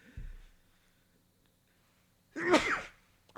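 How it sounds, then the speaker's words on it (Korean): A single loud, sharp sneeze bursts out after a short pause in a Korean lecturer's talk on targeted cancer therapy drugs, preceded by a soft breath. "재채기를 했네요."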